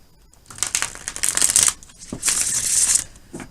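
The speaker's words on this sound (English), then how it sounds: "I always like to do a little shuffling on camera." Tarot cards being shuffled by hand, two bursts of crisp riffling and flapping with a pause between, close and fairly loud, with no talking.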